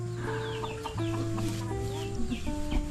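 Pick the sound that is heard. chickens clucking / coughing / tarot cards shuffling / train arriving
chickens clucking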